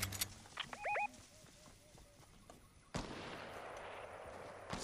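Gunshots in a French-commentated online shooter video game, a few sharp cracks at the start followed by a sudden loud burst of noisy, sustained fire near the end.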